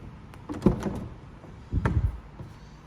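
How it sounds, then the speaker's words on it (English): Two soft mechanical thumps and clicks as an Audi TT door unlatches, with a brief whirring shift as the frameless window drops; quiet and close. "Windows drop when you open the doors."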